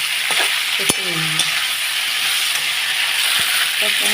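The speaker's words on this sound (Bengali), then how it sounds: "বেগুনটাকে ভালো করে ভেজে নেব" Cut brinjal frying in a pan for a potato, eggplant and prawn curry, with a steady hissing sizzle, a few scraping stirs and faint voice fragments over it.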